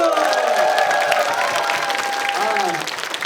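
Loud, sustained clapping fills the room from an audience at a live talk event, Yongin Sunshine Talk, with voices calling out over the steady patter.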